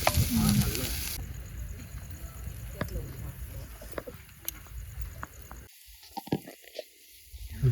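Food sizzles in a frying pan at a campsite beside Wang Rom Klao dam in Uthai Thani, a steady close crackle with faint voices talking in the background.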